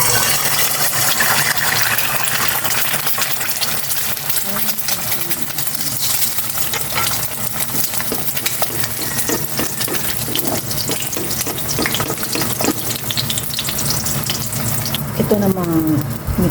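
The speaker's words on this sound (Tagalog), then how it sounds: "Prito muna ako ng egg." An egg fries in a hot pan at breakfast, giving a steady loud sizzle and crackle throughout with some clattering kitchen noise and a brief squeak near the end.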